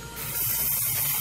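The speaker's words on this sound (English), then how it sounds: "Spray paint this nerf bullet, just see what it does." Aerosol spray paint can hissing steadily onto a nerf bullet, a continuous close, fairly loud spray that starts just after the opening and runs to the end.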